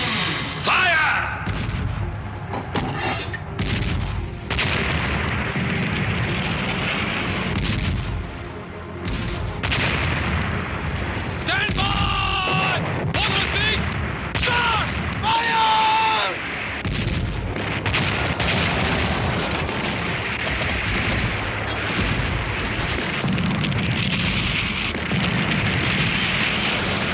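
Artillery and tank fire from a reenacted India-Pakistan war battle, loud continuous booms and blasts layered densely for nearly half a minute, with shouted voices mixed into the din.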